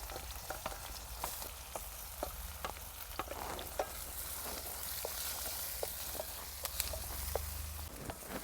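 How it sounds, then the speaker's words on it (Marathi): Chopped onion frying in hot oil with cumin seeds in a wok on a stove, a soft steady sizzle broken by a scatter of quick pops and scraping stirs, fairly quiet and close, with no talking. "कांदा चांगला लालसर होईपर्यंत परतून घ्यायचा आहे"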